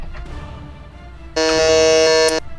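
A quiz buzzer blares once, a loud, flat electronic tone held for about a second over a low room hum, with no voices during it.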